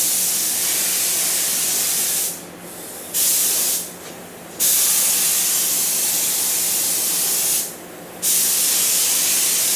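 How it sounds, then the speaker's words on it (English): Spray gun laying down green car paint in a home-built paint booth: loud, steady hissing bursts, several seconds each, broken by three short pauses, with no talk. "So let's go ahead and put some color on these."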